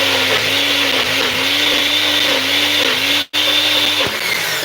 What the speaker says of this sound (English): we have put inside the blender now to blend it out